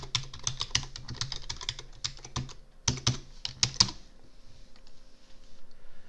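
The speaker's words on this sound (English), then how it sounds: "Type in password." Someone types a password on a computer keyboard, a quick run of close, crisp key clicks with small pauses, then the typing tapers off to quiet.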